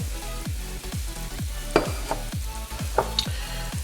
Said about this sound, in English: to our oil and our flour, we're now going to add in our paprika, our chili powder